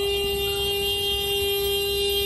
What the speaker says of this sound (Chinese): 警报器大响